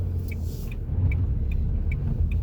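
A car creeps out of a parking space with the wheel turned hard right during a driving test manoeuvre, a low engine rumble underneath a regular ticking of the turn signal.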